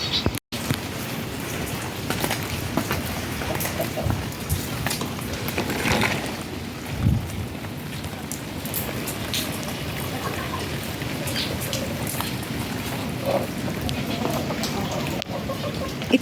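Continuous rain pattering on surfaces all around a hen enclosure, a steady dense patter with occasional louder drips and a faint voice in the background.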